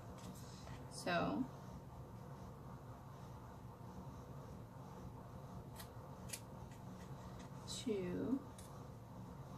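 Scissors trimming scrapbook paper, two short bursts of crisp cutting snips about seven seconds apart over a low room hum, with a brief spoken remark between them.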